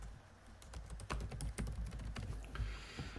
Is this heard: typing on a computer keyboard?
yes